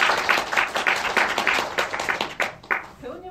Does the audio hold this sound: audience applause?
yes